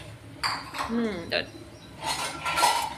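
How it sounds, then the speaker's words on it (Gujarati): Pots and metal utensils being set out in a home kitchen, with repeated clinks and clatters of steel dishes close by, steady across the clip and with no talk. "અને મમ્મી જો વાસણ ગોઠવી રહ્યા છે."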